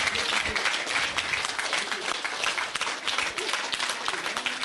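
A large crowd applauds at a lamp lighting ceremony marking the inauguration of a pyramid during a meditation festival, a dense, continuous wash of clapping that holds steady throughout, with faint voices mixed in.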